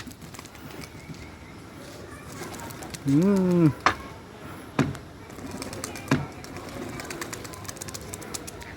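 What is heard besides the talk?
pigeons cooing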